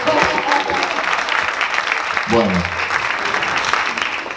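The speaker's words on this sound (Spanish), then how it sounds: "Otro aplauso para Mercedes." An audience claps steadily throughout a Spanish-language talk show segment, the applause sustained and fairly close while a voice speaks over it.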